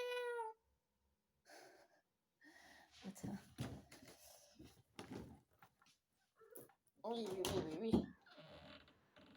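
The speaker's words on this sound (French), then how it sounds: "il y a le chat qui miaule." A house cat meows near the start, a short rising, harmonic call, followed by people talking with gaps of quiet.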